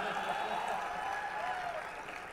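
Audience clapping in a dense, even wash that holds steady for a couple of seconds, with speech partly mixed in.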